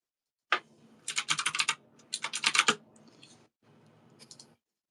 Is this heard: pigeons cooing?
no